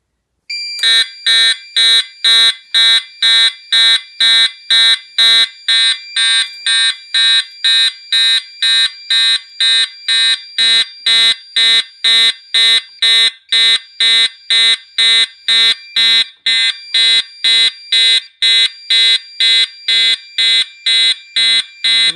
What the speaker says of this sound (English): set to continuous on the horn and set to low volume